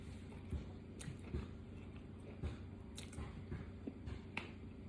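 Someone chews a bite of a freshly made lobster roll dressed with a squeeze of lemon, soft wet squishy bites and a few sharper clicks of the jaw, close and quiet.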